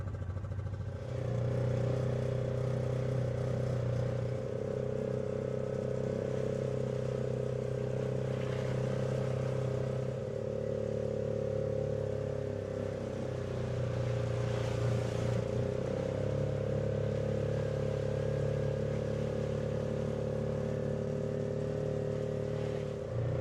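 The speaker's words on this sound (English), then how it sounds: "This should be a more capable off-road vehicle, but we're going to see how it compares on that same muddy stretch." An off-road side-by-side and a mini truck driving through a muddy stretch, a continuous loud engine drone with shifting pitch as the vehicles labor and rev through the mud, close by.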